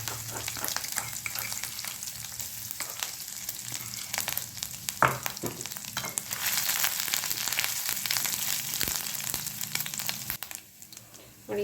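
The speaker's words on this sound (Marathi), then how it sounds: "इथे मी शेंगदाणा तेल घालते, जिरं घालते आणि ठेचलेलं आलं लसूण" Cumin seeds and crushed ginger-garlic fry in hot peanut oil for dahi aloo, giving a steady, close sizzle with a few sharp spoon clinks and stirring scrapes along the way.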